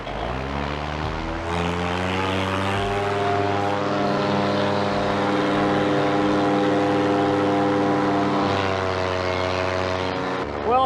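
A paramotor engine runs steadily at takeoff, a loud, continuous propeller drone with a strong buzzing hum that holds for the whole stretch and rises slightly near the end.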